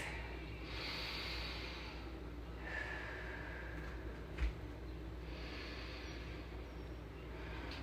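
Slow, deep breaths during a yoga pose, soft hissing inhales and exhales in long swells over a low steady background hum, close and quiet, with no talking.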